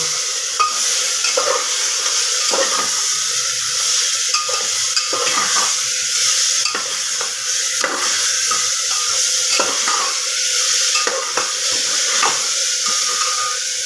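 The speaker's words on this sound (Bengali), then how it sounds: "এবার আমি ভালো করে এগুলোকে সব কিছু একসঙ্গে মিশিয়ে নেব" Fish stew ingredients with winter cauliflower are stirred and fried together in a pan, giving a steady, close sizzle broken by repeated scraping stir strokes throughout, with no talking.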